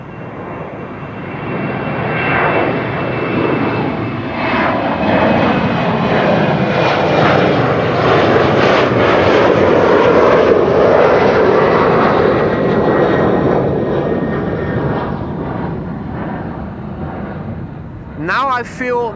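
Garuda Indonesia Boeing 777-300ER in SkyTeam livery departing Amsterdam Schiphol, a loud close jet roar swelling to a peak midway and slowly fading, with a voice speaking over it.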